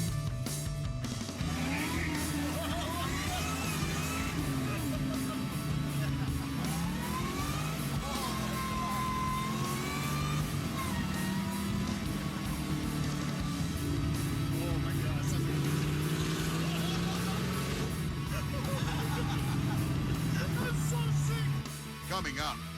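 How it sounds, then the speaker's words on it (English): A Camaro drives off and accelerates, its engine rising and falling in pitch as it revs through the gears over a steady road rumble, with people talking and calling out at times. "You take me for a spin in that Camaro."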